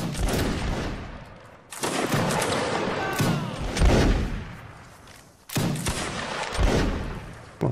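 Musket volleys crack and boom in the Napoleonic Wars game during a line battle, several loud bursts with rolling echoes, and players chatter over the gunfire.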